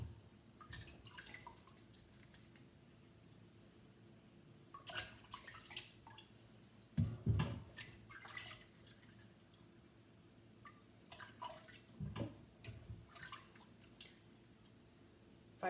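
Potatoes are rubbed clean by hand under water in a kitchen sink, with soft splashes and drips in irregular bursts, a few louder sloshes standing out against quiet trickling.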